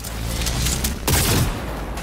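Charged rifle shots in the video game Cyberpunk 2077 burst out in a quick loud volley, with a heavier blast about midway, during an intense combat scene.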